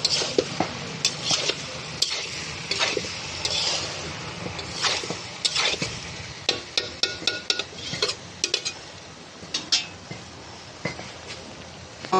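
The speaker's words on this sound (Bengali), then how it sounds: "এখন এটাকে ভালো করে কষে নেব" Spiced potato and vegetable curry is sautéed in a pan, with a spoon scraping and clinking against the metal in irregular bursts over a low sizzle, close and fairly quiet, with no talking.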